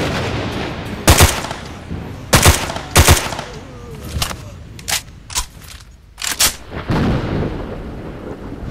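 A rainstorm in the video game S.T.A.L.K.E.R. Lost Alpha, set in a village by a swamp: constant hissing rain broken by several loud sharp thunder cracks and rumbles that come in bursts close together.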